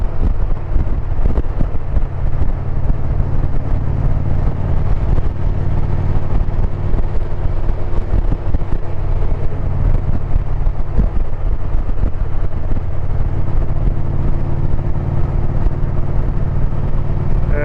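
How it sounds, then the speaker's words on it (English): A loud, steady motorcycle engine rumble with aftermarket cams and exhaust runs throughout, deep and throaty with a constant low drone and no voices. "The cams and the exhaust have a totally different sound than it did stock"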